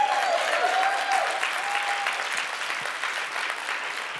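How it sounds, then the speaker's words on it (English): An audience applauds together at a talk, a dense, steady wash of clapping that holds throughout at moderate loudness, with a brief high tone near the start. "She wants you to clap with her so she's not alone."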